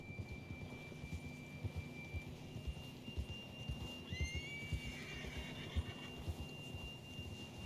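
Horse in Red Dead Redemption 2 gives one sharp neigh midway through, heard over a steady rhythm of hoofbeats and galloping movement, with a thin tonal whine in the background.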